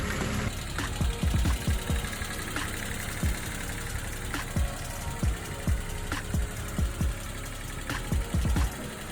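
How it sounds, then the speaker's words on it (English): A 1992 Toyota 4Runner engine idles high at close range, a steady mid-pitched hum with regular knocking pulses running throughout, alone with no talk. "Why is it idling so high though?"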